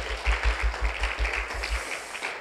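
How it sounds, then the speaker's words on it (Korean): Conference audience at a Seoul Fashion Hub talk claps in a brisk, rhythmic burst of applause, loud and close at first, then thinning out toward the end. "다시 한번 박수 부탁드리겠습니다"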